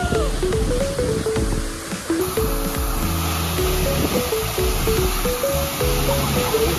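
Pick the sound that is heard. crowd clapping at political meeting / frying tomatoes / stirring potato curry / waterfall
waterfall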